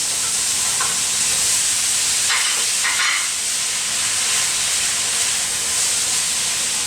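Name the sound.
beans added to hot pan, sizzling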